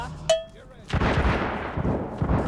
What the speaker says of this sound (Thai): มันยิงมันยิงมันยิง